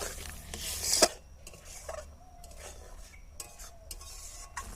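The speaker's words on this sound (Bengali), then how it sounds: "এবার খুব ভালোভাবে মশলাটিকে কষিয়ে নেব" Spice paste with red chili powder and turmeric is stir-fried in a pan for a taro (ol) curry, with soft sizzling under repeated scraping and clinking of a spoon against the metal, one sharp knock near the start.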